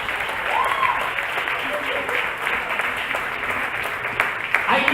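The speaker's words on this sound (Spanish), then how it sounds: "démosle ese aplauso al Señor" A congregation at a theology school gathering applauds, a sustained, even roar of many people clapping together, moderately loud and filling the room throughout.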